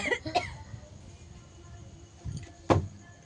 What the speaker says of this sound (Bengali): একটুখানি যেন এই ফুচকার জ্বলে কাশি উঠে গেছে।